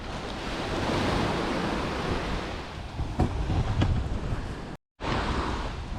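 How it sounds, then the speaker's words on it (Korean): Sea waves wash in at Yeongildae beach in Pohang as the tide comes in, a loud continuous roar of surf mixed with wind buffeting the microphone, broken by one brief dropout. "여기 물이 들어와가지고 여기 지금 밀물 상태라서 쫓겨났네, 해변에서"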